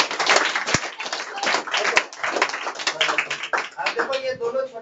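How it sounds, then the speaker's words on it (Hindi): Clapping during a lesson: irregular, scattered hand claps with a few sharp louder slaps, mixed with voices talking over them. "चलो इसके लिए ताली बजा दो एक बार।"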